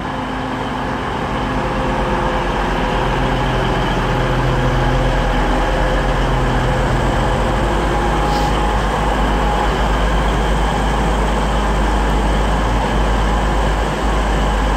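A Class 158 diesel unit moving slowly through Liverpool South Parkway station, a loud, steady engine drone and rumble held evenly for the whole stretch, close by with no talking.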